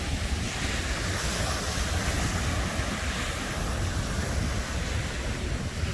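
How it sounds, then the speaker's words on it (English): Ocean surf surges and crashes through holes in the rocky shoreline on Cozumel, a steady loud roar of churning water with wind buffeting across the microphone throughout. "if the surf is up, it is absolutely awesome to see"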